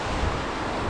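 Wind blowing hard beside a Scottish waterfall: a steady, close, full roar of rushing air and falling water with no pauses, and no voices.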